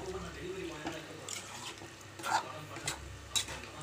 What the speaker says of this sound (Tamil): அதனோட தண்ணி வந்து நான் கொஞ்சம் ஊத்துறேன்